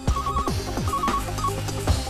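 A telephone rings in a warbling electronic tone with repeating sweeps, heard over a dense, busy background of music and noise.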